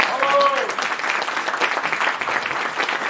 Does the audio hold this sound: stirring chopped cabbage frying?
no